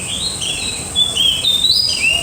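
Morning birdsong near a house among trees after overnight rain: clear, close whistled chirps and rising tweets repeat over a steady insect-like hiss, with no talking.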